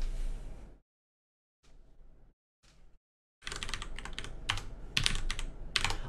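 Rapid clattering keystrokes on a computer keyboard, close and fairly quiet, coming in short bursts separated by silent gaps, then a denser, busier run of typing with a few louder clicks toward the end; no one speaks.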